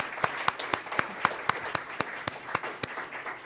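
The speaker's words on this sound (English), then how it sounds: "So let's give them one more big round of applause." Applause at a school governing board meeting welcoming new board members: a modest group claps in a steady, evenly paced rhythm with sharp individual claps standing out.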